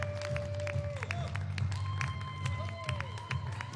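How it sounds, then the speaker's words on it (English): An audience at a squash league event in a stadium gives faint applause, with scattered claps and light cheering under tonal background sounds and murmured voices. "Round of applause, Daniel Akvaart."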